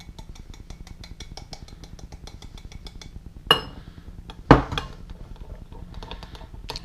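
A spoon stirs CC Moore cork ball pop-up bait mix in a bowl for carp fishing, giving steady rapid clinks and scrapes with two louder knocks partway through, close and fairly quiet.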